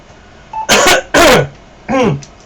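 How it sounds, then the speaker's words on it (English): A person coughs and clears their throat in three harsh bursts, close and loud, with brief pauses between, heard over a 2-metre amateur radio net. "Have a cough while I can clear my throat."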